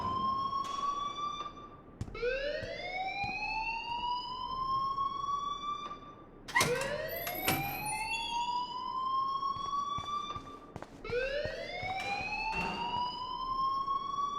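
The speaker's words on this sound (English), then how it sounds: "please turn off that alarm since that's your job" A video game alarm on an Android story game blares loudly and steadily, its rising electronic whoop sweeping upward again and again, every few seconds.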